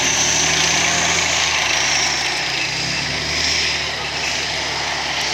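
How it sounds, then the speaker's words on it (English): A tank engine roars at close range at a Bovington armour display, a loud, steady broadband rumble with a throaty low drone that holds constant for several seconds without any talking. "You probably won't hear us very well while the engine is actually roaring"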